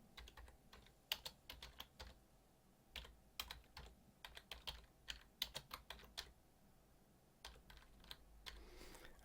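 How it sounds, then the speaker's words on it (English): Steady typing on a computer keyboard while entering text in Dreamweaver, quiet and close, with irregular bursts of key clicks and short pauses and no voices. "and we can continue typing."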